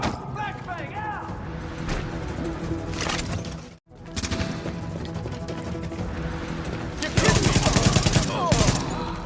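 Gunfire rings out in the shooter game Tom Clancy's The Division, with repeated bursts and single shots over a dense battle soundscape. Voices are heard during the fight, and the firing grows louder and more rapid toward the end.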